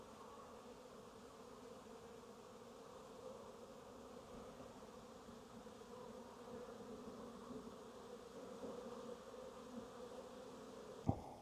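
Honeybees fly around beehives in a steady, soft, distant buzzing hum that continues without a break, with a brief sharp knock near the end and no voices.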